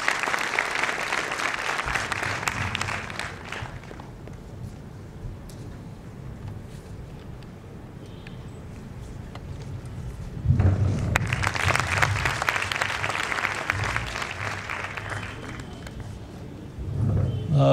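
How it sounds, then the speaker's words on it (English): Audience at a motivational session at an e-learning centre applauds for author Chetan Bhagat, loud clapping that fades into a lull of murmuring and then swells back to a full, sustained burst. "So please may I have a round of applause for Mr. Chetan Bhagat"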